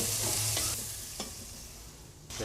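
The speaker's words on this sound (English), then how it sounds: "I prefer frying the olives, which I feel gets much more flavor out of them" Olives frying in a pan sizzle steadily while being stirred, with a few sharp utensil knocks against the pan and a constant hiss throughout.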